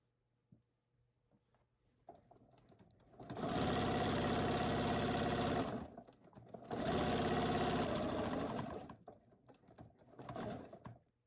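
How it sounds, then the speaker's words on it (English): A sewing machine stitches binding onto the right side of an appliqué quilt, running in two long steady bursts of about two and a half seconds each, then a shorter burst, separated by brief pauses with faint handling noise. "Sewing the wrong size binding on the right side of the quilt."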